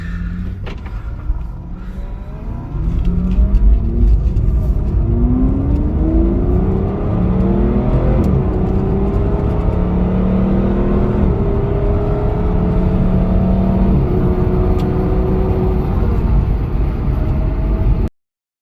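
Loud engines rev and roar continuously as several sports cars, including an NSX, accelerate past one after another, their rising whines overlapping until the sound cuts off abruptly.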